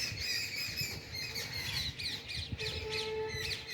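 A hornbill gives a run of harsh, repeated squawking calls at fairly low volume, with a few fainter chirps mixed in and no voices.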